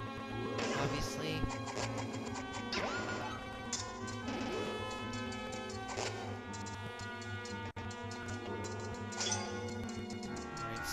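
Crystal switches being struck in Zelda: A Link Between Worlds, with sharp chiming hits and ticking effects sitting in a dense, continuous layer of game music and sound effects.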